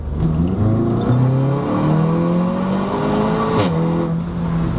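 A car engine with an aftermarket exhaust revs hard, its pitch climbing and dropping through several gear-like sweeps, loud and close with a throaty exhaust tone throughout.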